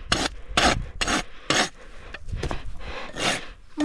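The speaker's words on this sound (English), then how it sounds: "Using the aggressive side of my rasp because I see it's sticking out a little bit on this medial side." Coarse rasp strokes on a horse's hoof, using the aggressive side to trim the medial wall, give a series of loud, close scraping bursts, several in quick rhythm, then longer drawn strokes.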